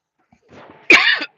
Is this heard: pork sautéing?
no